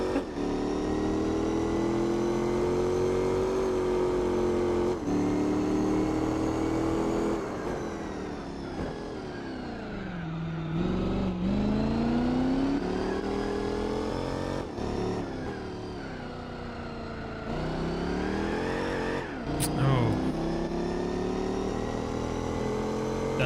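A car engine driving in Gran Turismo 4: a steady, loud engine drone rising and falling in pitch through gear changes and revs, continuous over the whole stretch with a brief sharp click near the end.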